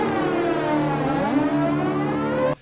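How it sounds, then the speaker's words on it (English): A short guitar figure recorded by the sound recordist for a film's opening titles, sustained and bending in pitch midway, played alone at steady volume before cutting off abruptly. "That little guitar sound there"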